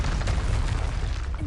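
A Confringo fire spell bursts in the video game Hogwarts Legacy, producing a dense, continuous booming explosion with deep low rumble, loud and sustained for the whole moment without voices.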